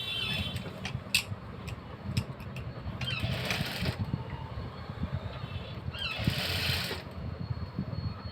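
A sewing machine stitches a puff sleeve along a marked line, its steady mechanical whir running close and continuous with brief higher clicks and rattles over it.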